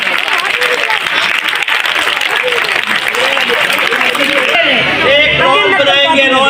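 An audience at a school magic show applauds a trick with sustained, dense clapping, with voices chattering and calling out among the crowd, and the clapping thins toward the end.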